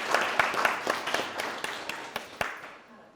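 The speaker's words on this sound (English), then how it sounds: "Please give them a round of applause." A small audience at an installation ceremony for officers and board members gives a brief round of applause. A few distinct nearby claps sit over the scattered clapping, and the sound fades after about three seconds.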